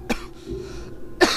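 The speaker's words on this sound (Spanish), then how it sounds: "Ando con una tos media rara porque me pica la garganta" Two short, rough coughs from a person with an itchy throat, one at the start and a louder one at the end, close and alone with a low murmur between them.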